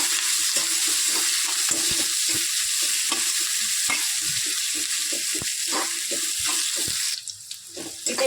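Onion frying with curry leaves in a pan for a village-style colocasia-stem curry, a loud constant sizzle broken by rhythmic scraping stirs, close up, before the hiss briefly drops away near the end.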